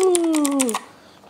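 Quick clacking keystrokes rattle on an MKA2C gaming keyboard, close and clear, while a voice glides downward over the typing before both fade.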